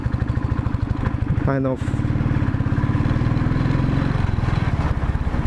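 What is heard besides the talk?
modified Royal Enfield Thunderbird motorcycle engine rattling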